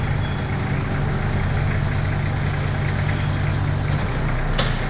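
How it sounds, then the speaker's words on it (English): Caterpillar DPL40 9,000 lb diesel forklift running at a steady idle-like rumble while its forks are raised, a constant heavy low engine drone with a brief sharp click near the end. "So I'm going to go ahead and raise this up."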